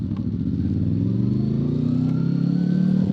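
Onboard engine of a 1999 Honda VFR motorcycle at the Nürburgring Nordschleife, loud and close, its tone climbing steadily as it revs up with a rising whine.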